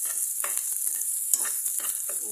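Garlic, onion and ginger fry in a pan with a bright continuous sizzle, broken by a few short scraping stirs close by, no voices.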